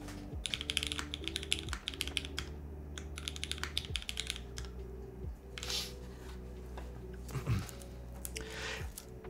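Typing on a mechanical keyboard fitted with thick PBT keycaps, a steady run of close, clacky keystrokes with brief pauses, heard alone without talk.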